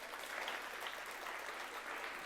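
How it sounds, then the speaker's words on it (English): A forum audience applauds after a talk, a dense, steady patter of many hands clapping together throughout, moderately loud and evenly sustained without voices. "Give a round of applause."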